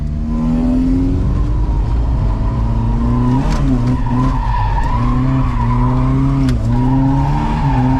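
A low-horsepower car drifts on a track, its tires squealing in a long continuous skid over a droning, revving engine as the driver pulls the e-brake and downshifts to second.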